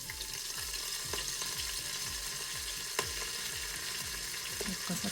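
Fenugreek leaf dal tempering with curry leaves, green chillies and onion frying in a pot, a steady crackling sizzle under rhythmic scraping strokes of a stirring spoon, fairly close.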